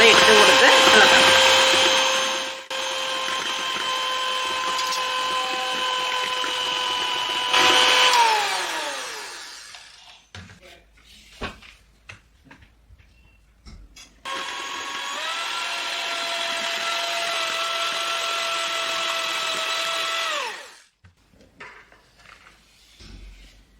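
Electric hand mixer beating cream with icing sugar and essence at home, a loud steady motor whine that shifts pitch, cuts off near ten seconds, then runs again before stopping, with quiet clatter between.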